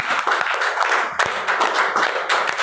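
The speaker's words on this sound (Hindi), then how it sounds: "चलिए एक हनुमान के लिए जोरदार तालियां, बहुत शानदार तालियां" Clapping from a group at a leaders' training gathering, uneven bursts of hand claps rising and falling across the moment, fairly close.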